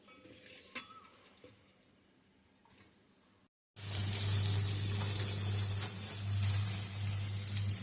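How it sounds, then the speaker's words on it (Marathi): Cleaned, fresh sardines fry in a pan, a loud continuous sizzle that starts abruptly after a few seconds of quieter kitchen sounds and carries on to the end. "मग आता हे मी करतलंय फ्राय"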